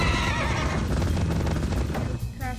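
A demon horse in Minecraft neighing loudly in a Nether monster-hunting map, a drawn-out whinny over dense game noise and hoof clatter, close and continuous.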